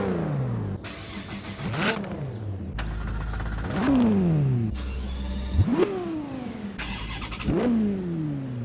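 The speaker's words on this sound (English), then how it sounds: "you can include a sound file of your car's starter motor with a light blip of the accelerator" A car starter motor cranks and the engine catches, followed by a light accelerator blip, repeated several times in a row in Forza Horizon 5, each start and rev loud and close with no talking.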